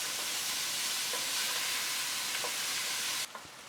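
Whole grain mustard is stirred into a fish soup pot with frying plum tomatoes, a steady soft sizzle and hiss with a few light scrapes, ending in a sudden drop to quieter bubbling.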